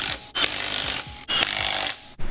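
Bursts of an impact wrench or powered ratchet tightening car wheel lug nuts in a crisscross pattern at a junkyard, three loud whirring runs separated by brief pauses, close by with no talk.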